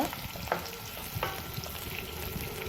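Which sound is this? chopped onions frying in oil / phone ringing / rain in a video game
chopped onions frying in oil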